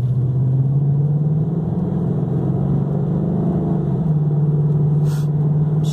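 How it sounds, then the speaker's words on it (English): A 2011 Ford Mustang GT Premium convertible driving, its engine droning steadily with a pitch rise and drop as it shifts through gears, loud and continuous with no talking. "I'm going to drive it for just a second, let you see it shift through gears"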